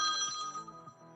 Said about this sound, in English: The bat phone is ringing.